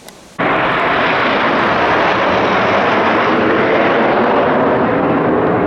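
Red Arrows display jets roaring overhead, a loud, dense continuous jet rumble that starts abruptly and stays steady for several seconds, with no talk over it.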